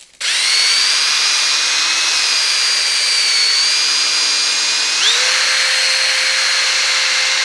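A pine dowel spinning in a drill is sanded with 100-grit sandpaper, a loud, continuous high whine with a steady abrasive hiss that shifts pitch slightly partway through.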